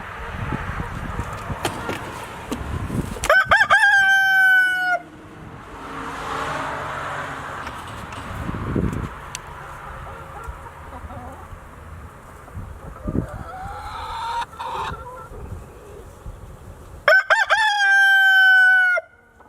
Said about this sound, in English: They crow a lot during the day.